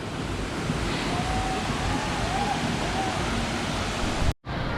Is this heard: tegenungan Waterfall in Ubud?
yes